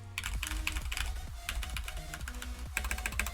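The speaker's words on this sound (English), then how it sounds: "you may not be able to use a mechanical keyboard because they are very loud" Rapid clacking keystrokes on a mechanical keyboard, crisp and close, in quick irregular bursts with a brief pause midway, heard alone with no voices.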